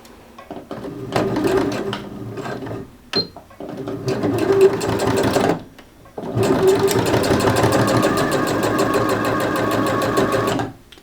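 A sewing machine stitching along a dress hem runs loud and close in three bursts of rapid, even mechanical chatter, separated by short pauses while it stops and restarts.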